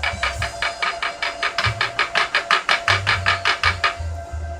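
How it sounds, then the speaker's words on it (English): A fingertip taps lightly and repeatedly on the resonator of an 800 MHz Quantar radio exciter, giving about a dozen quick, evenly spaced close-up knocks over a steady background hum. "And that's me tapping on the resonator directly."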